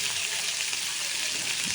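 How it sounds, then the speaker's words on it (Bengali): Teasel gourd (kakrol) fries in oil with a steady, close hiss that runs evenly throughout the short stretch. "কাঁকরোল ভাজা একদম সহজ একদম সহজ শুধু তেল দিই"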